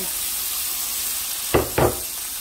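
Onion and garlic hit a hot pan in a quiet kitchen, with two brief, loud bursts of sizzling close together after a soft background hiss.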